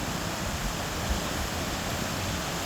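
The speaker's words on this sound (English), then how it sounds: "this is the rapids from the other side" River rapids churn beside a parked motorhome in cold Irish weather, giving off a dense, even rush of white water that stays loud and steady throughout with no voices.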